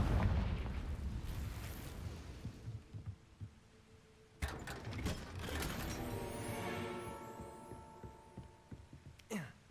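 A Confringo fire spell is cast in a Harry Potter video game: a sudden loud blast partway through, followed by ringing, crackling magical effects and mechanical creaks from the game world.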